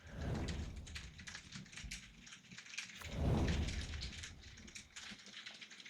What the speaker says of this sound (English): It's started to storm and rain, hail, I guess. Hail and thunder here quite a bit